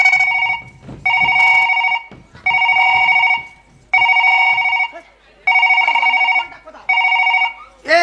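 A telephone rings loudly and close by, with six evenly spaced bursts of a bright electronic ring separated by short pauses and no voices between them.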